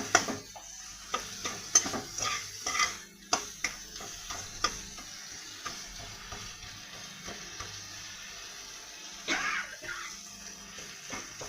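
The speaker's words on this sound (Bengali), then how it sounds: "এইবার ভালো করে কষবো।" A spice mixture being sautéed in a pan for borar dalna, a vegetarian lentil-dumpling curry: soft sizzling under repeated scraping stirs and spoon knocks against the pan, close and fairly quiet, with a brief hiss later on.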